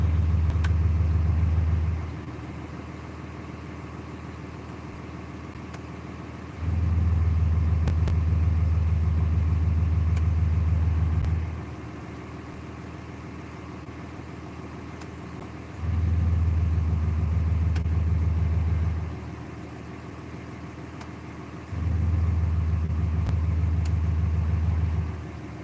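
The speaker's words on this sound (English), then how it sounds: "I'm gonna go ahead and start up the truck and maybe flip the exhaust brake on and off" A truck with an exhaust brake idles in a steady low rumble, and a deeper, louder drone swells in four times for several seconds each as the exhaust brake is switched on and off.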